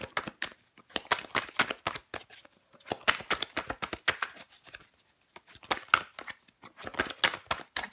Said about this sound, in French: Je vais recouvrir ce 8 d'épée pour vous les scorpions.